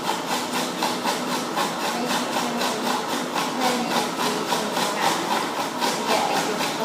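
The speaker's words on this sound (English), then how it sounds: "You may need to keep turning the onion around to get a good hold on it so that you can grate it" Onion grated by hand on a metal grater: a steady, rhythmic rasping scrape of repeated even strokes, close and continuous throughout with no talk.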